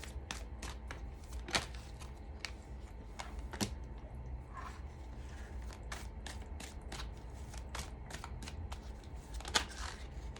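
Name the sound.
shuffling and laying out tarot cards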